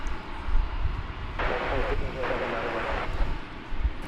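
At Dallas Fort Worth airport, an airliner's engines roar as it aborts its takeoff, a broad rushing surge that swells in two bursts over wind and background noise, heard from a distance.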